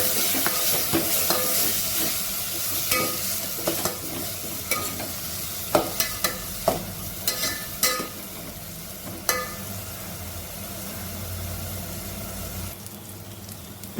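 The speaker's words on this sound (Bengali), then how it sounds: "এবার একটু ভাজা ভাজা হবে।" Ginger paste and spices for chicken kosha are stir-fried in a pan, with a steady close sizzle and repeated scraping spoon strokes that grow sharper and more distinct partway through.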